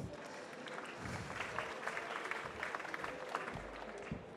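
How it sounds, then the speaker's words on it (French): A conference audience at a Paris e-marketing event applauds as a speaker is introduced, with a fairly faint, continuous patter of many hands in a large room. "également sous vos applaudissements"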